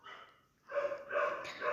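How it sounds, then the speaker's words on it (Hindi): Dogs bark in the morning at a home, a few short barks close together at moderate volume, with a brief pause near the start. "हमारे यहाँ कुत्ते भौंक रहे हैं"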